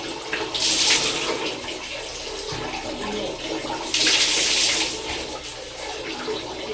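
Water runs from a tap or shower during a bath, a steady broadband splash with two louder surging bursts, close by and without talk.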